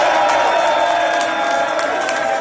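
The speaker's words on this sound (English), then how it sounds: "So his whole team is applauding, going nuts." An NBA team applauds and cheers wildly for Joel Embiid, the Philadelphia 76ers center and 2023 MVP, a dense steady roar of clapping and whooping voices that stays loud and close throughout.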